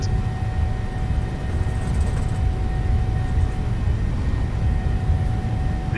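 Jet engine roar building steadily during a PMDG 737-700 takeoff roll in Microsoft Flight Simulator, a continuous low rumble with a faint whine, heard alone without talking.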